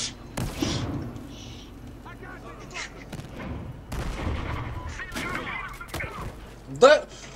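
Gunfire in the video game Battlefield Hardline, scattered sharp shots and bursts spread across the clip, with voices talking throughout over the action.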